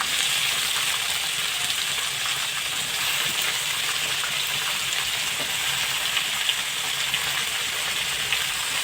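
Eggplant and mango pieces cook in a pan for curry, giving off a steady, fairly loud hissing sizzle that runs unbroken from start to finish.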